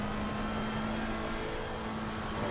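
A GT race car on throttle in Assetto Corsa Competizione, a steady droning engine tone held at speed, moderately loud and even throughout, with no talking.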